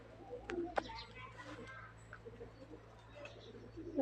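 Pigeons kept in an indoor coop coo softly in low murmuring notes at the start and again near the end, with faint chirps and quiet background noise.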